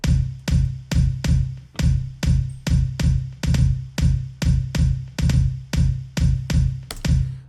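Future garage kick drum programmed in Ableton Live, its mid frequencies cut with EQ: a punchy, boomy thump repeating in a steady, slightly swung pattern about every half second, loud and dry with nothing else playing.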